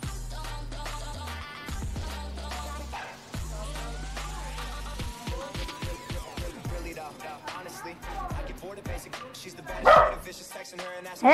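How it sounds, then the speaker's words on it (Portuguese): A dog barks in a home while a phone game plays, several sharp barks in a cluster partway through, fairly near, over game music and sound effects. "vocês ouviram esse latido, não liguem"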